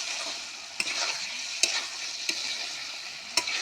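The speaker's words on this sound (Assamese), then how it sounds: "বিলাহীখিনি অকণমান সিজিলে হ'ব" Tomatoes frying in a pan, a steady close sizzle with a few sharp clicks of a spoon stirring against the pan, and no talk.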